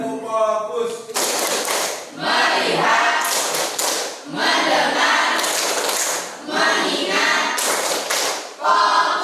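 Hands clap in a 'tepuk fokus' routine: several bursts of quick, loud, crisp group clapping alternate with short chanted words, repeating in a steady call-and-clap pattern.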